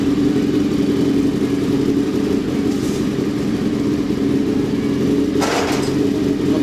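A homemade kart cross engine drones steadily and close by, then gives a short, harsh rev surge near the end and settles back to its steady note.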